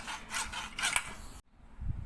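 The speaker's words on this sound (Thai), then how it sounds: "ต้องใช้เลื่อยนะเนี่ยนะ ต้องใช้เลื่อย" A hand saw cuts through a glued PVC pipe joint in several quick back-and-forth strokes, close and fairly loud, then stops for a brief pause before a softer scrape follows.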